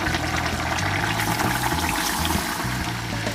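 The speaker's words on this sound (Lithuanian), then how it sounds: "dabar supilame tolygiai ryžius" Uncooked rice pours steadily into a pot of stewed meat with garlic cloves for Uzbek plov, a continuous grainy rush lasting a few seconds under a low background hum.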